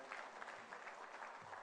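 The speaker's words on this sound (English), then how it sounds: "Big round of applause, ladies and gentlemen." Brief burst of audience applause in a conference hall at a foundation luminary conference in Banjul, the Gambia, steady dense clapping from a large crowd throughout.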